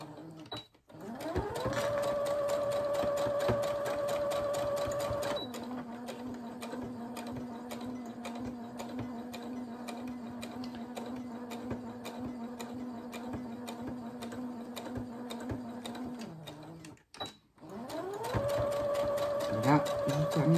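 A sewing machine running steadily along fabric in long stitching runs, its motor whine shifting pitch as it reverses direction, with brief stops and restarts, close and fairly loud.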